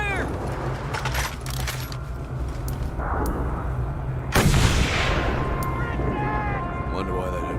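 Gunfire and explosions in the Mad Max video game, with bursts of shots and a heavy blast midway over busy vehicle and combat noise, and a voice speaking over the action.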